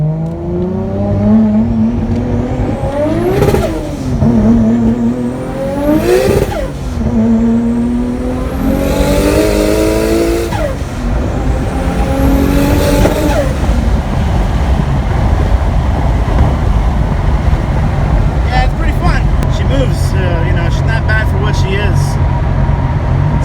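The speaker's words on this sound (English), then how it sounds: "Turbo, so it's gonna have a little bit of turbo lag, but it's not too bad." A turbocharged 2.6-litre inline-six Nissan car engine accelerates hard, revving up through several rising sweeps before settling into a steady, loud roar.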